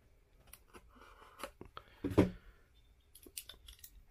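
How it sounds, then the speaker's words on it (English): Scissors snipping open Topps Derek Jeter trading card packs: a few quiet, brief cuts and crinkles, the loudest one in the middle, all close up with no talking. "So I'll kind of cut these open gently"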